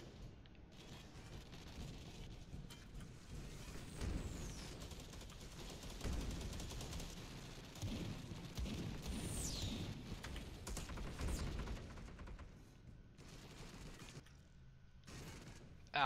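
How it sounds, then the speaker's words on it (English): Gunfire in the Warhammer 40K Deathwing video game rattles in rapid bursts, with sustained machine-gun fire and mechanical clatter that swells and fades over a rumbling background. "Ah, brothers, I'm being shot somehow."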